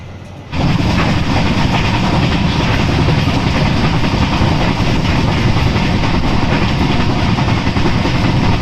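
An Intercity Express train runs on rails between Ajmer and Gwalior, heard from inside a coach. After a short quiet start, a loud, steady rumble of wheels and carriage noise sets in and holds unbroken.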